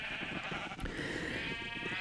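Sheep bleating in the video game Minecraft, a single clear nasal bleat standing out from a steady hiss and soft shuffling, with no talking.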